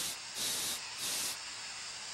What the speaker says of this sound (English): That sound you're hearing is like a tea kettle.